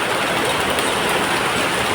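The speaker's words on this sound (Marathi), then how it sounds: "पावसाची सुरुवात झाली आहे. ही जोरात." Heavy rain just beginning to pour, a dense, steady hiss of falling water that fills the whole stretch without any break and with no talking.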